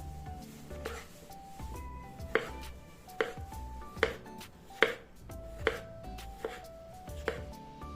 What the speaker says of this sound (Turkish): Patateslerimin tamamını bu şekilde doğruyorum